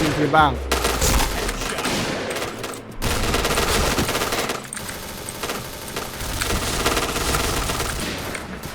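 Automatic OA-93 fire in Point Blank rattles in long, loud bursts broken by brief pauses, with a voice speaking over the shooting.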